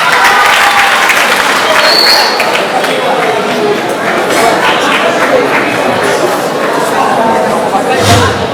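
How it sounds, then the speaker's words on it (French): An audience at a school quiz contest applauds loudly and continuously, dense clapping filling the room with a few shouts and bumps mixed in. "Vous applaudissez pour nous."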